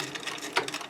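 A sewing machine stitches a seam with a double needle, its rapid mechanical rattle running steadily and close for under a second, with no talking.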